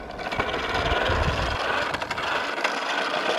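A small toy bubble lawn mower, running with no bubble liquid, buzzes and whirs steadily up close, with a light plastic rattle running underneath the whole time.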